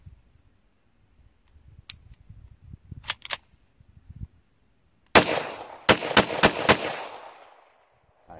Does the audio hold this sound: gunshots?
yes